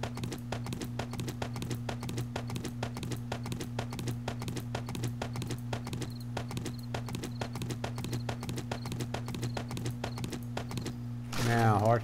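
Rapid, regular video game clip-clop of horse hooves trots steadily along, with a horse snorting near the end.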